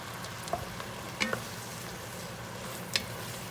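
Sauvignon Blanc wine sizzling in a pan of rabbit ragu, a continuous close hiss with occasional sharp clicks and spatters from stirring.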